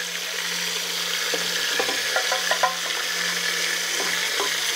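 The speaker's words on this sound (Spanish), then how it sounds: "Tenemos nuestras presitas y las vamos a ir sellando." Rabbit pieces for garlic rabbit sear in hot oil, giving a steady, loud sizzle with a few light clinks and scrapes partway through and a faint constant hum beneath.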